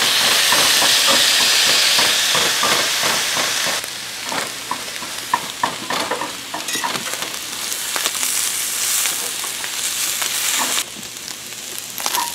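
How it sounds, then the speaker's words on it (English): Spinach goes into a hot pan with onions and peppers, setting off a loud, continuous frying hiss with steam, then a lower sizzle marked by repeated stirring scrapes and clicks, close by with no talk. "Next I'm going to add in some spinach."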